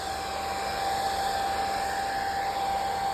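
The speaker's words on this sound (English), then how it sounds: "we'll put the hairdryer to this" A hair dryer blows with a constant high whine and airy rush, steady and close throughout.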